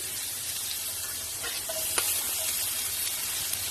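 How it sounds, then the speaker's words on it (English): Garlic and green chilies sizzle in melted butter in a pan, a steady close hiss of frying with a few faint clinks from a utensil, no voices. "add some butter and then add some garlic, green chilies"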